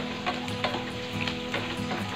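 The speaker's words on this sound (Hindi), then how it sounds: "अब इसको मैं कैप्सिकम डाल के मैं फ्राई कर देती हूँ" Capsicum frying in a hot pan gives a dense, continuous sizzle with scraping stirs and light crackling pops, close and fairly loud with no voices.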